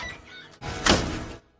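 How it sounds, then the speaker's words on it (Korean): A door bolt slides open with a scraping mechanical whir, followed by a brief loud rushing slide and a thunk, close and alone, from a film scene. "빗장이 풀리는 소리가 들리고"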